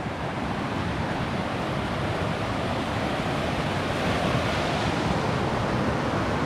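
Steady, loud rushing water of a creek being crossed in the Kananaskis wilderness fills the whole clip, a continuous broadband roar like a fast river close by, with no voices.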